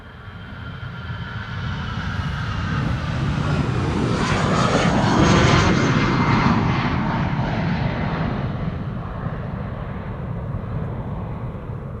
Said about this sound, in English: Aer Lingus in the retro livery, an A320